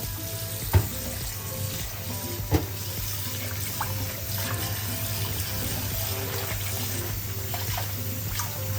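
Water running steadily while a clay pot is washed in a kitchen gives a constant rushing, hissing flow, with two brief knocks of the pot early on and no speech.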